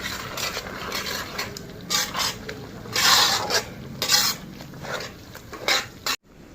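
Roasted ground spice powder frying in oil in a pan for Telugu coriander pickle, scraped and stirred with a raspy rhythmic scratching over a soft sizzle, steady and close, ending abruptly.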